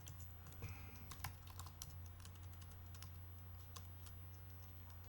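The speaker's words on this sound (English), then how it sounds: "I have to hit the backspace because I don't want any of that" Keys tapped on a computer keyboard, a few scattered clicks over a steady low electrical hum, with a slightly longer press near the start, quiet and close.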